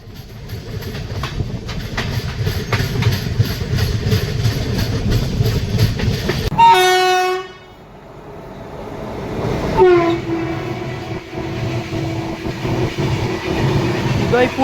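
The Howrah–Agra Cantt Chambal Express rolls along near Jhansi with a steady, loud rumble and rattle of the carriages, broken midway by a long blast of the train horn before the running noise returns.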